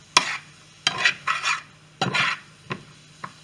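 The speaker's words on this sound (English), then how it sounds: "So I like to keep hearing the sizzling." Shrimp fried rice sizzling and being stirred in a hot pan, with several scraping stirs and short crackling bursts spaced out over a quiet background and no talking.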